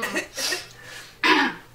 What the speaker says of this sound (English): Clear your throat again?